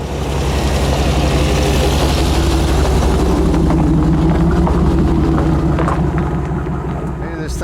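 A 1989 GMC Dually pickup's engine runs at a steady idle, a loud, deep, continuous rumble close by, with a voice talking over it.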